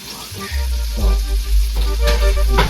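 Chicken pieces with skin sizzle and fry steadily in a hot pan for masa pizza, a continuous crackling hiss broken by a few louder spits and pan bumps, close and fairly loud with no talk.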